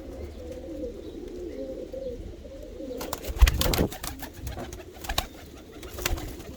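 A pair of Rostov pigeons coo in low rolling calls, followed by a flurry of fluttering and scuffling noises nearby.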